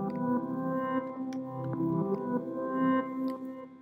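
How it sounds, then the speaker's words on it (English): Cloud Diving, a manipulated futuristic synth pad from the Alchemy library, plays a chord progression with steady sustained harmonic tones that shift between chords, quiet and alone. "So cloud diving from Alchemy Library is a manipulated pad instrument to sound futuristic."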